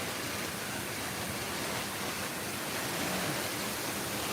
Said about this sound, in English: It's like a little waterfall feature,